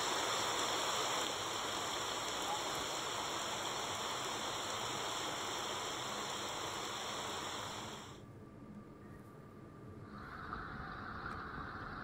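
Floodwater rushes across a road after heavy rain in Maharashtra, a steady, loud, close wash of flowing water that drops to a quieter, thinner flow for a few seconds near the end.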